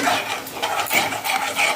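Tomatoes sautéing in a pan for a chutney, with a spoon scraping and stirring in short repeated strokes over a soft sizzle, close and fairly quiet.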